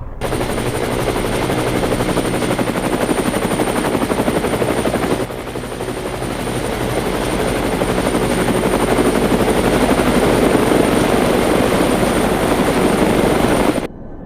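Engines of approaching military aircraft in a Fallout audio drama, a loud continuous thrumming rotor-like roar with a high whine, briefly dipping midway then swelling until it cuts off abruptly, no talk.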